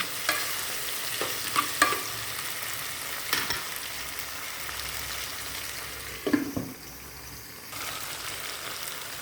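Tomatoes fry in a pan for shallot sambar, a constant close sizzle broken by several louder clanks and scrapes of a spoon stirring against the pan.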